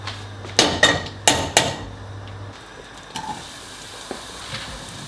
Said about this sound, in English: So I'm just gonna cook these onions until they're softened